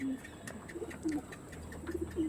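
A full white tournament-quality pigeon gives a series of short, low coos, spaced unevenly and fairly close, over a soft background hiss with faint clicks and no talking.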